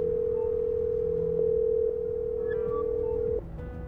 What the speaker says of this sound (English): I heard the dial tone